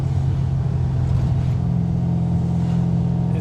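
A 1980 Chevy Camaro Z28 restomod with gear drive cruises slowly, its V8 holding a steady, deep, loud rumble with no sharp revving, heard from inside or close by.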